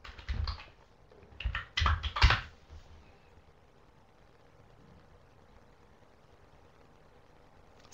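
Bursts of typing on a computer keyboard come through in the opening three seconds, near and moderately loud, then fade to a quiet room hush for the rest.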